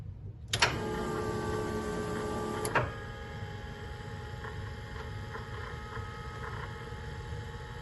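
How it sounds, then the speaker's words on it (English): A fuel pump on a Fiat K20 engine switches on with a click and hums steadily for about two seconds, then cuts off, leaving a faint background hum. "Let's turn on the pump 1 second."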